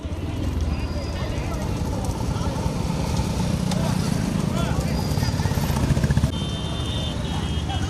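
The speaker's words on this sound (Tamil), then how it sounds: "வெயிட் பண்ண பின்னாடி மாடு வருது." A bull approaches along a road with rapid clopping hooves amid a loud, busy outdoor crowd, while voices talk throughout and engine noise rumbles underneath.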